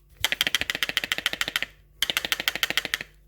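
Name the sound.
clicking of Braun 4162 blender rotor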